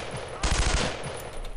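Machine gun fire in the World War II shooter game Brothers in Arms: Road to Hill 30 rings out as one short, loud burst of rapid shots after a moment of background noise.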